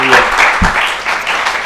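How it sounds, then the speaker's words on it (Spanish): A short burst of clapping from a congregation at a religious service, brief and loud. "Damos un aplauso al Eterno porque Él es bueno."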